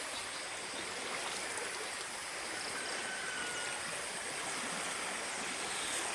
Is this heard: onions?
no